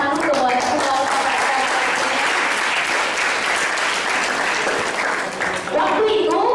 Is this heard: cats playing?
no